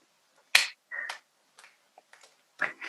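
One sharp, close hand clap stands out in a quiet room, followed by a few softer, scattered clicks and taps.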